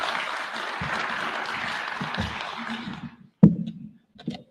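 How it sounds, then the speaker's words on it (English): Audience applauding the Governor of Turkana at a State House launch event, a dense burst of clapping lasting about three seconds, then a few sharp knocks and a short voice after it fades. "Please, let's clap for the Governor."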